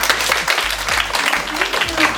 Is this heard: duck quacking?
no